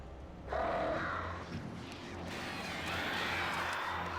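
Birds in a video game give faint, harsh caw-like calls in brief bursts over a low background rumble.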